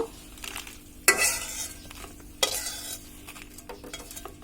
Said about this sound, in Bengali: আগে তেলে নিতে হবে মরিচগুলোকে। আমাদের মরিচগুলো টালা হয়ে গিয়েছে